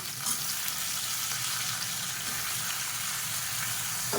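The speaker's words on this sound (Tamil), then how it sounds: "இப்போ இதையும் ஒரு 2 நிமிஷம் வதக்கிக்கலாம்" Turkey berries, drumstick and brinjal sautéing in a pan for sambar, giving a soft, steady sizzle with faint stirring, low and continuous, with no talk over it.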